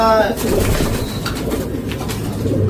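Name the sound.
pigeons cooing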